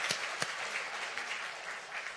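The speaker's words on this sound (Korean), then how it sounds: "하나님께 영광의 박수 올려드립니다" A church congregation at a Sunday worship service applauding together, a dense sustained wash of clapping with a couple of sharper individual claps near the start.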